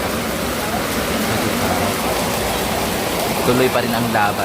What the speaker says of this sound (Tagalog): Ayan na, ulan na.